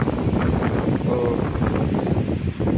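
Strong gusty wind roars steadily across a mountaintop at Parvathamalai, buffeting the microphone with a loud, continuous rumble and rustle that never lets up.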